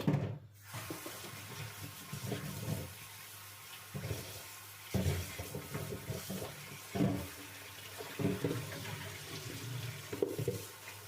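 Steady running tap water splashing over vegetables being rinsed, with intermittent bursts and gurgles as they are moved under the stream.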